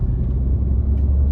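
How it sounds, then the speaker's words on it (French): Inside a DS DS4 1.6 BlueHDi diesel with an automatic gearbox, a steady low engine and road rumble drones as the car gathers speed on a straight road. "Et on va accélérer un petit peu."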